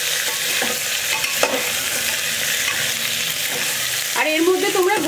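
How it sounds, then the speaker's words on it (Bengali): Chicken fries in a hot pan with whole garam masala while being stirred. A loud, continuous sizzle runs throughout, with a scraping stir near the end. "এই যে চিকেন দিয়ে দিলাম। চিকেন দেওয়ার পর একটু ভালো করে নেড়ে নেব।"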